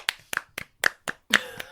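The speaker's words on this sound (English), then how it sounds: "Clap your hands." Hands clap along to the Cha Cha Slide in a room, six sharp, close claps in a loose rhythm with short gaps between them.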